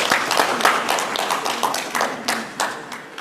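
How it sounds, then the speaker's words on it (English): Audience applause following a presentation on a national halal tourism master plan at a conference, a scattered, moderately loud patter of claps with uneven bursts, fairly close and sustained across the room. "Can we have a round of applause for"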